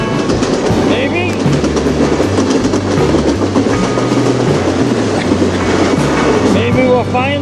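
A CN freight train rolls past on the Strathroy Subdivision, loud and close, with steady rumble and repeating clickety-clack of wheels over rail joints throughout.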